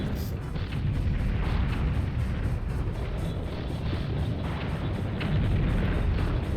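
Continuous booming rumble of tank turret cannon fire and explosions in the video game Battle Tanx Global Assault, a dense, steady low-heavy barrage with no clear gaps, loud and sustained throughout.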